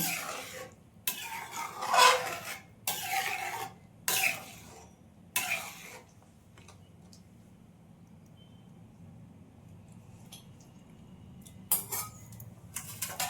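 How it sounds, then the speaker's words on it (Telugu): A spoon scraping and clanking against a pot while egg curry is stirred, several bursts of metallic clatter with quiet gaps between them, and a few more knocks near the end. "కలుపుకుంటున్నాను"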